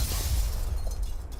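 Grenade blast in a competitive video game match, a sustained loud rumble with heavy low end and a bright shattering crackle, with no talk.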